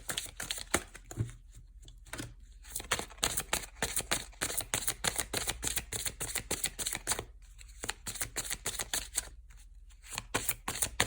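Love angel oracle cards being shuffled by hand, a dense run of crisp riffling flicks and slaps that continues steadily with a few brief pauses, close and fairly quiet.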